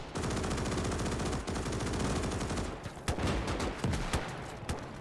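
Video-game gunfire in Gates of Hell: Ostfront erupts as rapid sustained machine-gun bursts, followed by scattered single sharp shots and cracks, loud and close with no talk over it.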